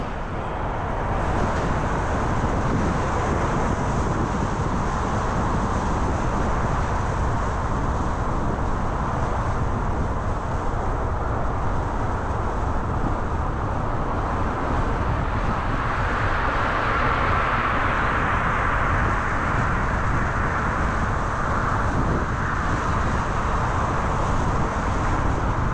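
Road noise from inside a car driving around Phoenix Sky Harbor Airport, a constant broadband rumble of tires and engine with wind, steady and unbroken for the whole stretch, no one talking.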